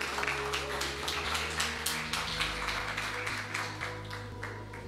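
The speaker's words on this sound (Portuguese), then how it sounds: "Pode tomar o teu assento e palmas bem forte" A church congregation claps hard and in time, the sharp beats landing evenly about twice a second over sustained music and some voices.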